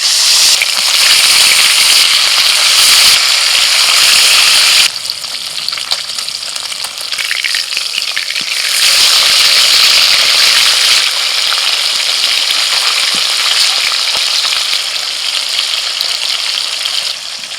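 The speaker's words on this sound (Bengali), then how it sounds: "মাছগুলো ভেজে নিই।" Rohu fish pieces frying in hot oil, a loud, steady broadband sizzle that runs without a break, with slight shifts in intensity as the pieces settle and are moved in the pan.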